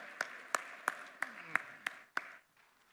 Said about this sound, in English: Let's give them the applause that the journeys deserve